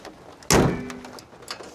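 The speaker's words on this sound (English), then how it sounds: "Gotta shut the hood." The hood of a 2019 RAM truck with a 5.7 Hemi slams shut in one sharp, close metallic thunk, then rings briefly and fades into quiet outdoor ambience with light rain.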